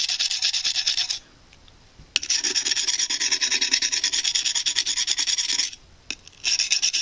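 Schrade SCHF52 knife edge drawn across a tiny sharpening stone, giving close, loud, steady raspy scraping strokes in two long passes with brief pauses between, no talking.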